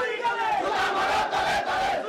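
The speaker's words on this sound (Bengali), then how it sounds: "আদালত চত্বরে বিক্ষুব্ধ জনতা মমতাজের ফাঁসির দাবিতে স্লোগান দেন" An angry crowd chants slogans outside a court, loud, dense massed voices shouting in a sustained rhythmic surge, close and continuous throughout.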